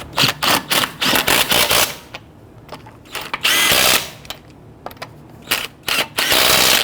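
Lug nuts being snugged down with a power tool on a front wheel of a 2011-2017 Nissan Quest after a caliper replacement: loud, close bursts of rapid mechanical rattling, several short and a few longer, with no talk.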